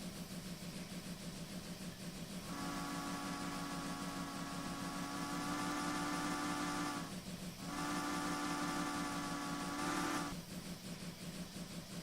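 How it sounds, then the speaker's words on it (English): Steam locomotive whistle in a train simulator game: two long, loud, sustained chime blasts over a constant engine rumble, separated by a brief pause, with a short third blast trailing off at the end. "Might as well give it a little whistle show, if you will."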